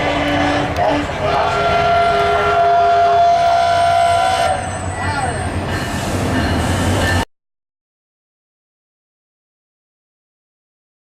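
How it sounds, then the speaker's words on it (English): Commuter rail train pulling into a Florida station, loud and close with rumbling wheels and a drawn-out squeal of brakes, then cutting off abruptly into silence. "This train runs from Kissimmee to DeBary, the furthest station north"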